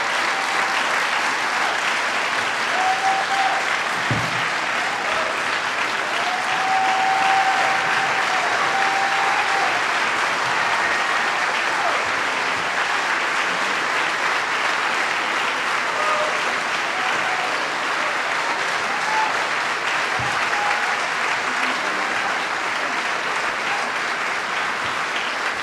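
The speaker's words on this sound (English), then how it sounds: "Another round of applause for Mr. Harry Belafonte." An audience at a Left Forum 2014 event applauds Harry Belafonte after his speech, with loud, steady clapping from a large crowd that runs without a break for about 25 seconds.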